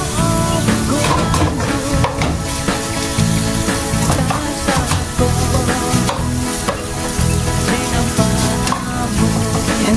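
Tomatoes and eggs fry in a pan, a loud, close, continuous sizzle with crackles, stirring scrapes and utensil knocks throughout.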